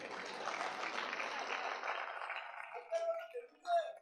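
An audience at a patriotic poetry recital gives a soft, steady wash of applause for a couple of seconds. The clapping fades out and a speaking voice takes over.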